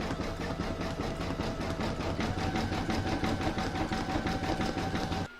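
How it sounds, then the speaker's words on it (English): An embroidery sewing machine running a satin stitch border, a fast, even mechanical rattle of needle strokes sustained up close for several seconds. "it'll be round number 12 to do the satin stitch border on"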